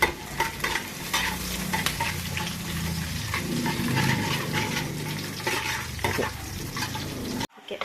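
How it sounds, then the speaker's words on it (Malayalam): Ginger, garlic and green chillies are stirred in a hot pan, a close sizzle overlaid with repeated scraping strokes of a spoon against the metal, with an abrupt stop at the end. "കുറച്ച് ഇളക്കി കൊടുക്കണം. മിക്സ് ചെയ്യാം."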